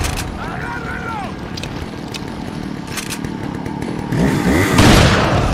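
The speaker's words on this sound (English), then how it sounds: "Chainsaw." In the GameCube edition of Resident Evil 4, a chainsaw whines and revs steadily through a tense fight, rising to a louder, rougher burst near the end while gunfire and other game noise crack in between.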